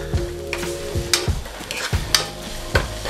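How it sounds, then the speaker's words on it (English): Mushrooms and onions for beef stroganoff stirred in a pan, rhythmic spoon scrapes and knocks against the metal roughly every half second over a soft sizzle. "And do this stirring often for, as I said, about 4 to 5 minutes"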